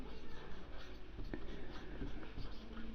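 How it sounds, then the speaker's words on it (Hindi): Pen or marker scratches out writing during a class 6 maths lesson on ratios, with short strokes and taps in an irregular rhythm, close and fairly quiet, and no voice over them. "तो पहले लिखेंगे हम"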